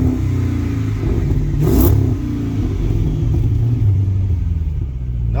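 A Chrysler 300C with a 5.7 Hemi and custom-fitted exhaust rumbles deep and close, swelling with a brief rev midway before settling back to a throaty idle.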